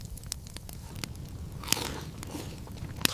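Crunchy grilled lake fish with plenty of spine is bitten and chewed close up, several sharp crunches and crackles over quiet chewing, no voices.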